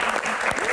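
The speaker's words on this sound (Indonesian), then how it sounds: "Oke, tepuk tangan." At the close of a Q&A talk, a short, lively burst of audience clapping fills the room, brief and fairly loud.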